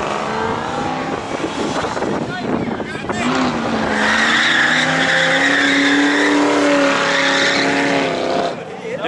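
Ford Mustang GT drifting up a hill, its engine howling loud and sustained with rising pitch and tire squeal, heard close and continuous throughout.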